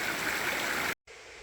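Steady rushing roar of a waterfall along a hiking trail, loud and continuous, broken by a brief cut before the flow resumes slightly quieter.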